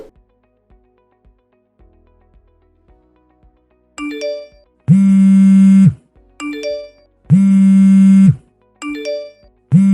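A phone ringtone starts after several quiet seconds: short chiming tones first, then two long, loud ringing bursts separated by gaps, and a further chime near the end, with nobody talking.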